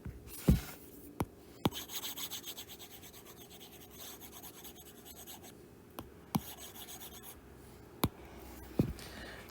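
Pen or pencil writing out a chemistry reaction on paper, a soft continuous scratching and rubbing stroke sound, close and quiet, punctuated by several sharp taps as the tip lifts and touches down.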